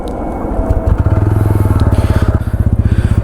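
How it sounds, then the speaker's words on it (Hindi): A TVS Ronin 225 motorcycle starts up and settles into a loud, close single-cylinder exhaust idle, a steady rapid thumping pulse with no voices over it. "तो इसका एग्जॉस्ट का इनिशियल साउंड है"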